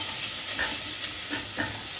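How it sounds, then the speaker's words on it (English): Onions softening in a pan, an even, close sizzle with soft stirring swishes rising briefly over the hiss, no speech. "Now, you see they're just beginning to turn a little bit yellow, sizzling quite nicely."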